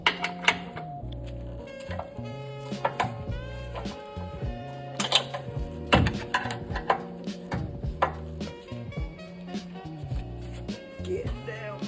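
Hand tools working on the front end of a Ram EcoDiesel truck to loosen an 18 mm bolt give rapid metallic clicks and clanks in irregular bursts, close and sharp, with a faint voice in places.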